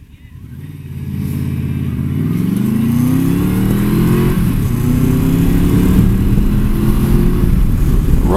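A Royal Star motorcycle engine pulls away from a stop on a ride to work, its loud, close note rising steadily through the revs while wind rushes underneath.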